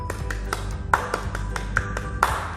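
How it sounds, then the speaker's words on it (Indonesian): A group of school scouts performs the rhythmic Pramuka clap, a patterned sequence of sharp hand claps with uneven spacing and a few louder accented hits, close and clear against a low background hum. "Terus habis itu langsung diikuti tepuk pramuka"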